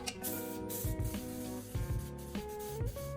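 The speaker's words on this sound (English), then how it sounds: "I'm going to use this Baker's Joy and I'm going to spray my pans." Several short hissing bursts of Baker's Joy baking spray sprayed onto cake pans, repeated in quick succession against a quiet background with faint music.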